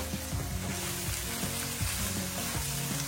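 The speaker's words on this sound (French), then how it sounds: "Là, je tourne notre riz." Rice with beef and vegetables stirred in a hot frying pan, a steady loud sizzle with repeated scraping strokes of the utensil at an even rhythm, close up and without talk.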